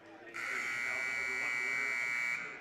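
A game-ending buzzer sounds at a girls' varsity high school basketball game, one long steady electronic buzz lasting about two seconds, loud over faint gym noise.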